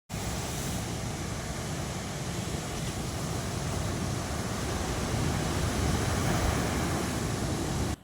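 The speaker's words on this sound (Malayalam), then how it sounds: "കടൽ ഇന്ന് വളരെ ശാന്തമാണ്. ചെറിയ തിരമാലകളേ ഉള്ളൂ." Small, calm sea waves at Vettakada beach near Varkala roll in with a steady, broad wash of surf, continuous and fairly loud without clear breaks.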